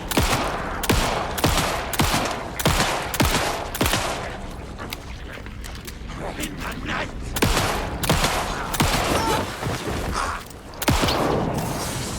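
Gunfire in the video game Alan Wake II, a rapid series of loud, sharp shots fired in quick bursts with brief pauses, close and dominant throughout.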